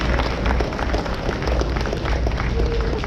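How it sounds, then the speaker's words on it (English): A theater audience at a SeaWorld Orlando show applauds a rescued pelican, a dense, loud, steady wash of clapping and crowd noise that fills the space without pause. "let's give this handsome bird one more round of applause"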